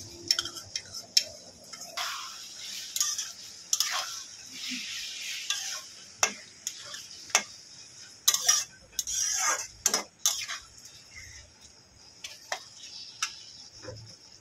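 A utensil stirs mixed sauces into chow mein in a pan, making irregular light clinks, scrapes and taps against the metal over a quiet background.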